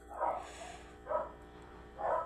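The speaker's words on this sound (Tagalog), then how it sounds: "ang daming aso tumatahol" Several dogs bark in the background, three distinct muffled barks spaced roughly a second apart, moderately distant, with no speech over them.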